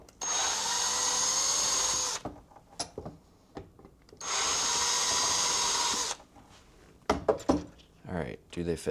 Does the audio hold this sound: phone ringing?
no